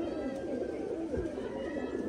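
An Andra high-flying pigeon in a winter loft gives a soft, low coo close by against a steady background hum.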